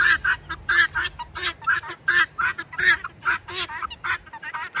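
Birds trailing along on a walk give rapid honking, quacking calls, loud and near, in quick clustered bursts that hardly pause.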